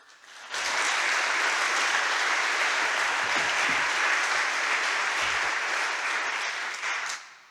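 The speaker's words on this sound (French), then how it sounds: "Je vous prie de bien vouloir les applaudir." An audience at a staged mock tribunal breaks into applause, a sudden full burst of clapping that holds steady at close range for several seconds before cutting off.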